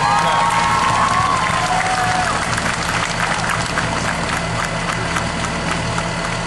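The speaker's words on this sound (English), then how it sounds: "Let's give them a round of applause." An outdoor crowd at a school bonfire claps and cheers loudly and continuously, with shouts and whoops mixed into the applause and a low engine-like hum underneath.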